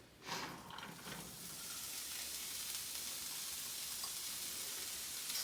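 Diced onion frying in hot oil in a pan, a brief clatter as it drops in followed by a steady, even sizzle that holds on at moderate loudness, no one speaking.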